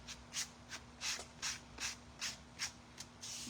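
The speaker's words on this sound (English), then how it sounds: "I will spray the clear glossy sealer on the back." Repeated short hissing bursts of clear glossy sealer sprayed from an aerosol can onto the back of a handmade cork and ceramic decoupage coaster, about nine quick puffs in steady rhythm, close and fairly quiet.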